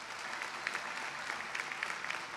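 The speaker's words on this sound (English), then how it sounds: "Let's offer a round of applause" A steady, distant round of applause from a crowd at a high school commencement ceremony, an even wash of many hands clapping at low volume throughout.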